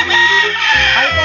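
Chickens clucking and a rooster crowing close by, a continuous burst of loud fowl calls with no speech.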